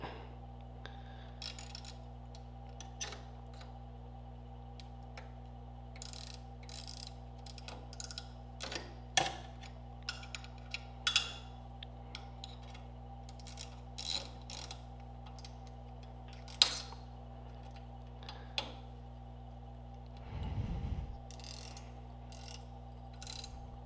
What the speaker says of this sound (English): go ahead and tighten the two screws on the needle plate